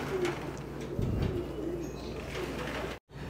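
Pigeons coo steadily inside a loft aviary, soft repeated calls close by over a low hum, with a brief thump near the start of the second and a short dropout near the end.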